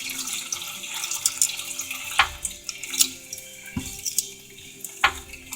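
Transmission fluid drains from a lowered 4L60E pan in an uneven, splashing trickle, with irregular drips and pours close by and no talk.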